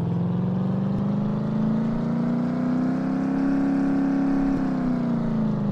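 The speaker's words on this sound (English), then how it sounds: "Just the sheer thumper of an engine." A car engine holds a steady high rev on a dyno in a restoration garage, a loud continuous droning tone with rich harmonics, rising slightly in pitch and then easing off.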